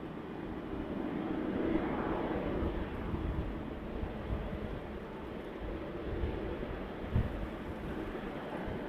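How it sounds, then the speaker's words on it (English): A plane taking off from runway 26 left at Vancouver Airport: a distant, faint jet rumble swells and fades beneath steady wind noise on the microphone. "clear for takeoff for runway 26 left"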